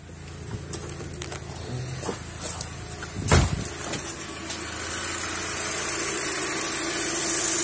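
An Audi TT Mk2 engine idles smoothly after a PCV valve replacement, a low, steady hum with a few clicks and one sharp knock partway through, the idle growing slightly fuller toward the end.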